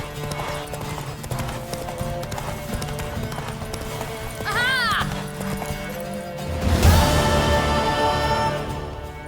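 A horse galloping in The Witcher 3: Wild Hunt, with fast, continuous hoofbeats throughout and a brief whinny partway through, followed by a louder burst near the end.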